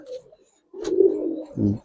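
Pigeons just let go from the hand coo in short low bursts: a brief murmur, a pause, then a longer throaty coo and a final rounded one, close by with no talk.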